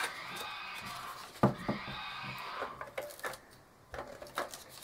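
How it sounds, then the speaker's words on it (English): A child's toy rocking horse gives a faint electronic neigh, a short whinny followed by clip-clop beats in a quiet room, with no talking. "there's the horsey, if y'all heard that. It's my son's rocking horse."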